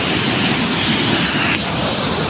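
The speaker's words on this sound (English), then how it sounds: "I hope you are enjoying the waterfall" A waterfall in Karura Forest gives a continuous, loud, broadband rush of falling water, heard close and unbroken throughout.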